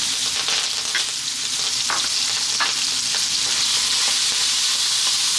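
Onions and curry leaves dropped into hot oil for a prawn curry sizzle loudly and steadily, a dense close crackle with a few sharper pops and no talking.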